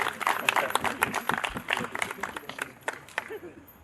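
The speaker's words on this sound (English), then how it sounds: "Give him a round of applause, guys." Light applause from a small audience at an academy anniversary barbecue, scattered claps fading over a few seconds, with some voices mixed in.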